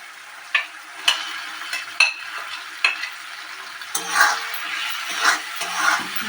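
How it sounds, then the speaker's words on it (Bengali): Shol fish seasoned with salt, turmeric and pepper sautés in a pan, heard as a sizzle punctuated by repeated sharp stirring scrapes and clacks of a spatula at irregular intervals. "এই মাছটাকে এখন চিকেনের মতন অনেকক্ষণ ধরে কষতে হবে"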